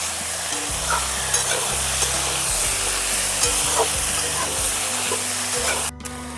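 Steady hissing sizzle of flat beans and potatoes frying, with intermittent spatula scrapes, then the sound cuts off abruptly near the end.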